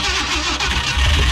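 A 1969 or 1971 Ford F100 pickup, abandoned for years and primed with gas through an old carburetor, cranks and catches, its engine starting loud and close, a short grinding crank that rises into a rough rumbling roar.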